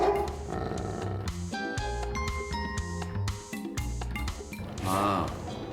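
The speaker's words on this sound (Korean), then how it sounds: "배고프다며 짖은 소리였는데요" A hungry dog barks nearby in a run of sharp, clear barks and yips, some with a rougher, whiny edge, separated by short pauses.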